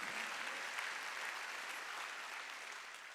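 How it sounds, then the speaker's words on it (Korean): A church congregation at a Korean Wednesday worship service claps in a dense, continuous burst of applause that fills the room evenly and fades slightly toward the end, with no talking over it. "박수"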